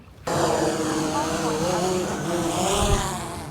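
Camera drone spinning up and lifting off near the water, a sudden onset of loud, steady propeller whine and buzz that continues throughout, close by, with a voice talking underneath.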